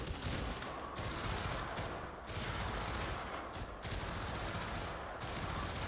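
Sustained, fairly quiet gunfire in the VR shooter Pavlov on PS5 VR2, with distant-sounding shots rattling almost continuously over a thick, noisy background.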